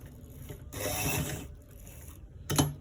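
A sewing machine stitches a collar roll in short runs, its mechanical whirring rising and stopping twice, then a sharp clack near the end.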